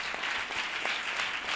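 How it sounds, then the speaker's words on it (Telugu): A crowd at a church youth conference, the Freedom Youth Conference, claps in a brief, dense burst of applause at moderate loudness. "చప్పట్లు కొట్టు."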